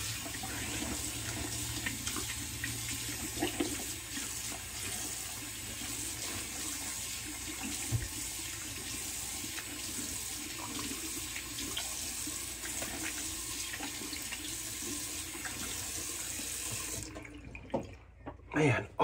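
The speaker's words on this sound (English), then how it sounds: "Okay, and rinse my face," Cold water runs steadily from a bathroom tap into a sink for rinsing the face after a wet shave, a continuous close hiss and splash that stops near the end.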